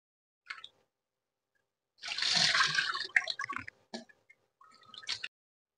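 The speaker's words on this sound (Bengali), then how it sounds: "এগুলো সবগুলো সুন্দর করে এখন ফ্রেশ করে ধুয়ে নিব।" Water splashes and sloshes as potatoes are rinsed in a cooking pot, with one brief splash followed by a longer, busier stretch of washing and a few short trailing splashes.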